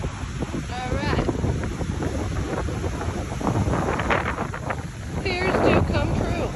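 Gusty wind buffets the microphone in uneven surges on a beach on South Padre Island during a storm, with voices and shouts breaking through now and then over the blustery rush.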